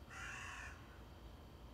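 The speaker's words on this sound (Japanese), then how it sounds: "変なカラスの声。" A crow gives one odd, strained caw lasting under a second, faint and somewhat distant outdoors in the early morning, followed by quiet ambience.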